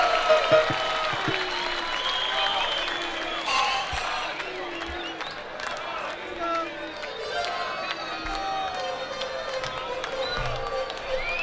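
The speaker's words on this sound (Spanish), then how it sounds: "fuerte el aplauso ahí." Audience at a live concert applauding, a sustained wash of clapping and crowd noise with scattered whoops, mixed with music and a voice over it.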